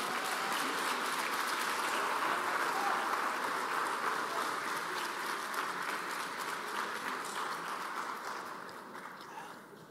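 A church congregation at a Spanish-language service claps loudly and continuously for several seconds, a dense, even wash of many hands that slowly tapers off at the end.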